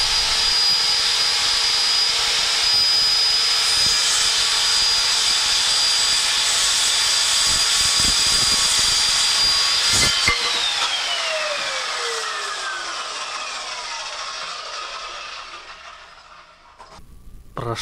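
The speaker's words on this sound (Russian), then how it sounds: "Брусок распилить по лазерному указателю невозможно. Пропилю его просто так," An INTERTOOL WT 0618 circular saw, 1500 W, 5800 rpm with a 190 mm blade, cuts a wooden bar held in the air, its loud high whine steady through the cut, then spinning down in a falling tone after release.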